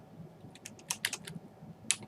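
Quick bursts of keystrokes on a computer keyboard, a few irregular clicks and short runs of taps, close and clear with no voices.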